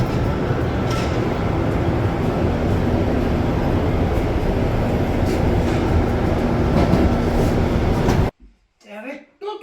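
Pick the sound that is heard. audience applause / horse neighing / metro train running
metro train running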